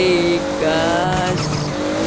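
A Toyota Supra race car in Forza Horizon revs up as the engine pitch climbs through the gears, loud and close, with some tire squeal and no voices.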